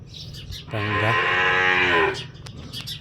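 A single cow gives a long, loud moo lasting over a second, with faint background noise before and after.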